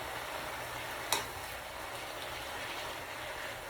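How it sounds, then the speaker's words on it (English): Cabbage fried in a pan with smoked turkey and andouille sausage gives a steady, low, continuous sizzle, with one brief sharp click or clatter partway through and no talking. "Like I said, we're frying it up."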